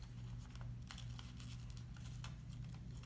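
Close, quiet crisp snips and crinkles of paper being cut with scissors, irregular cuts spaced over a low steady hum.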